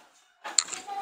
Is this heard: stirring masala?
yes